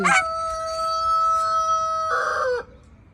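A rooster crows loudly and close in a snowy Swiss winter setting, one long sustained call that rises and then breaks off, with no talking over it.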